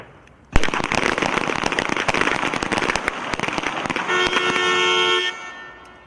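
Rapid volleys of pistol shots ring out in a team pistol match at the U.S. Army Small Arms Championships, sharp cracks overlapping loudly and irregularly for several seconds before thinning to a few final shots.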